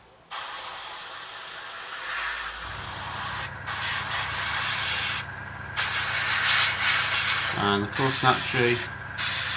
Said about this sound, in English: this compressor has to kick in, doesn't it? Just as I'm recording